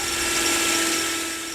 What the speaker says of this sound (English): drill out the mounting holes